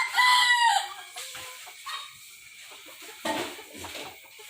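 Young bantam chickens, five to six months old and about a kilogram each, crow and cluck nearby; a loud crow opens, then scattered clucks and another crow follow.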